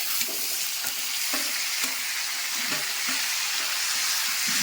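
Curry leaves hitting hot oil in a pan for a Kerala-style bitter gourd stir-fry, a loud, continuous crackling sizzle with a few soft knocks of a spoon stirring, and no talking.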